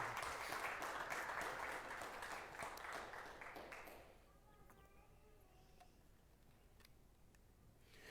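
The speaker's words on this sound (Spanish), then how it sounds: "Denle un aplauso al Señor" A church congregation gives a soft round of applause that lasts about four seconds before dying away into a quiet room with faint ticks.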